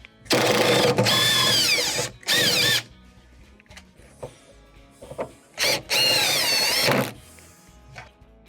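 Power drill driving out the door screws on a Whirlpool WRT316SFDM01 refrigerator during a door reversal: several loud whining bursts of a couple of seconds each, with brief quiet gaps between, close to the listener.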